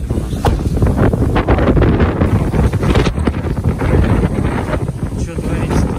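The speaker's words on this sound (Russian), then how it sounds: "очень сильный ветер у нас" Strong wind buffets the microphone in a constant low roar, with gusty rumbling throughout and no clear voices.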